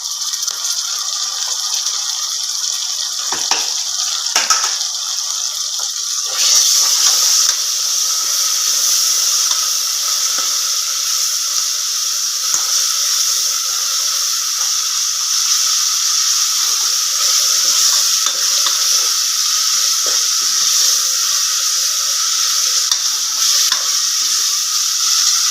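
Ginger garlic paste sizzles and hisses steadily in a hot pan while being stirred for beef gravy, a loud continuous frying crackle with occasional scraping stir sounds, growing fuller after a few seconds.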